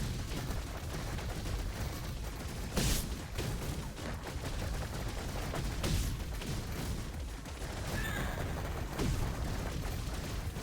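Bullets sprayed out by dying enemies in a hectic video game: dense, continuous crackling gunfire under steady noise, with sharper bursts standing out every few seconds and no speech.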